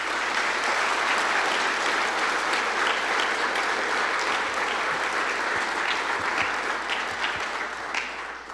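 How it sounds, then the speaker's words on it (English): A banquet hall crowd at a college football awards banquet applauds warmly and continuously, the clapping holding steady before thinning slightly in the final second. "So give them a round of applause for me."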